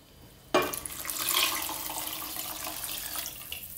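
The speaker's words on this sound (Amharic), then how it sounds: "ከዛ ውሃ እንጨምራለን" Water poured into a pot of cooked tomatoes and lentils for misir shorba soup, a sudden close splash followed by a steady gushing pour that continues without talk.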